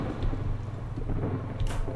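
A rolling thunderstorm in the game Against the Storm, with steady low rumbling and a patter of rain under it, continuous and moderately loud with no voices.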